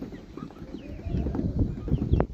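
Australorp chickens give soft, low clucks and murmurs in an enclosure, a close cluster of muffled calls over steady background noise, rising slightly toward the end.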